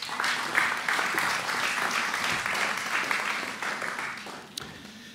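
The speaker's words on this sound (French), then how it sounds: "Vous pouvez l'applaudir" An audience at a philosophy lecture event applauds the speaker, a full, dense round of clapping that stays strong and gradually eases off toward the end.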